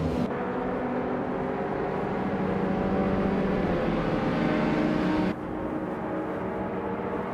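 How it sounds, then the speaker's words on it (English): A 1995 Ford Escort RS Cosworth races in a video game, its engine droning in a loud, steady roar with a sustained rising tone that drops off abruptly near the end, with no talk. "zooming in with a classic 1995 Ford Escort RS Cosworth"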